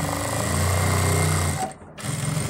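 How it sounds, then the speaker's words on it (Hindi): Sewing machine stitching a ladies' pant pocket, a steady close motor hum and rapid needle rattle that briefly stops and then resumes. "ये देखिए अब हम इसके सिलाई लगाएंगे ऐसे"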